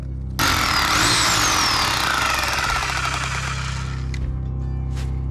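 A jackhammer breaks rock in an opal mine, a loud, rapid, continuous hammering close by that starts abruptly and keeps pounding for about five seconds.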